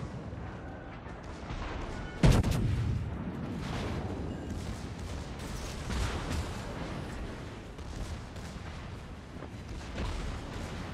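Warship guns fire shells in the naval game World of Warships, with one sharp, loud salvo blast followed by rumbling echoes and fainter distant booms.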